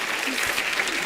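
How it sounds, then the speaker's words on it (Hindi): Studio audience applause on a comedy talk show, a dense, steady burst of clapping from a large crowd, brief and loud. "एक बार जोरदार तालियां हो जाए उदित जी, अलका जी और आनंद मिलिंद साहब के लिए।"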